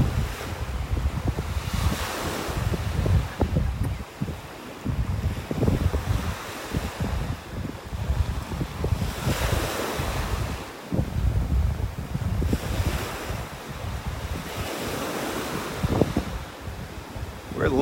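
Ocean waves wash onto a beach at low tide in North Naples, Florida, in a continuous rolling surge with recurring swells, mixed with buffeting wind noise on the microphone.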